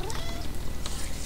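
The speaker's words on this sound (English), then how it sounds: "she meows so much" A pet cat meows briefly during a session of the game Oblivion, a faint thin cry under steady game background sound.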